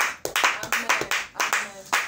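A church congregation claps in a quick, even rhythm, each sharp clap close and distinct, about four to the second for a couple of seconds.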